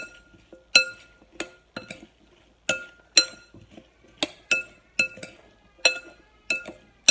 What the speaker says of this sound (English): I'm going to take a spoon. I'm going to mix it all up.